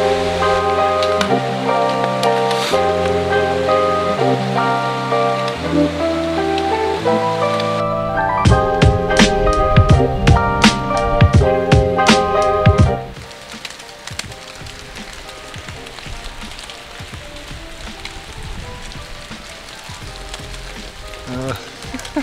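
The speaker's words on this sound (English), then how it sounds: "The ice is falling from the trees." Chunks of ice drop from winter trees along a snowy mountain ridge trail, making a broad, steady rain-like patter. Loud music with tonal notes partly masks it at first, and the patter then continues more openly.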